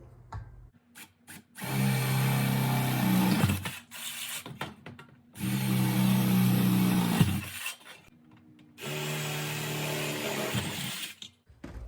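Power drill boring 3/8 inch holes through wood, three sustained loud bursts of whining, grinding motor noise, each lasting about two seconds and separated by short pauses.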